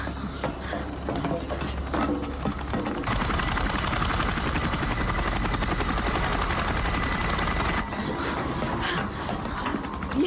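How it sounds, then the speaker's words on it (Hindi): Combat helicopters approach in a movie scene, a steady loud rotor and engine roar filling the whole clip, building and holding without pause. "ये हेलीकॉप्टर्स की आवाज लगती है।"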